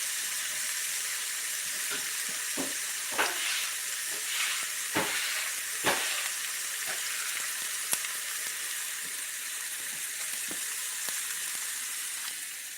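Chicken sizzling and frying in olive oil in a pan, a steady crackling hiss broken by occasional louder pops and stirring clatters.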